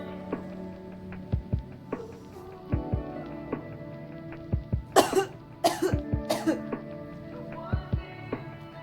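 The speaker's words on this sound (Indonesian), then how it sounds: "Batukan dengan kuat 2 atau 3 kali secara berturut-turut tanpa menghirup nafas kembali." Three forceful coughs in quick succession, demonstrated as an effective coughing exercise before surgery; the sharp bursts land close together in the middle, over a low steady background hum.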